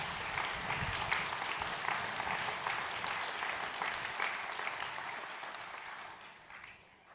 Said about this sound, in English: I'd like a little clap for the band and the choir,